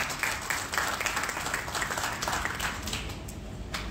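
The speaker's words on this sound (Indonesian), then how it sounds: "Berikan tepuk tangan yang meriah untuk Tuhan." Audience applause for God at a church service, a steady wash of many hands clapping that fills the whole stretch at even loudness, with no voices over it.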